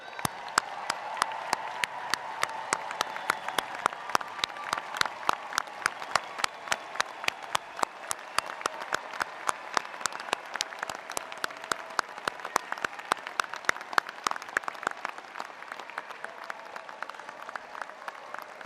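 Sustained applause from a graduation ceremony audience, many hands clapping steadily at moderate volume for nearly twenty seconds, thinning slightly near the end.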